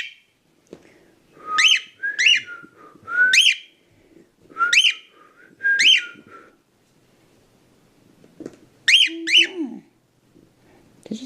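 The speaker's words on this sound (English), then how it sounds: "Duchess, I can't believe you're scared of a bird" A pet bird whistles loudly nearby in a series of rising, slurred whistles, about six in one run, then a pause and another pair, with faint voices in the background.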